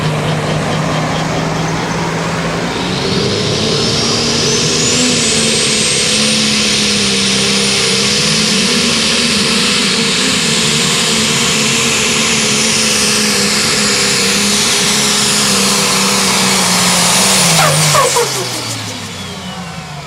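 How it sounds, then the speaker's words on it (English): A D2 Pro Stock pulling tractor roars down the track at an NTPA tractor pull in Hopkinsville, Kentucky, with its engine howl rising in pitch over a long, loud run before cutting off sharply near the end. "Get that tractor out on the track. Let's see what kind of run he can have."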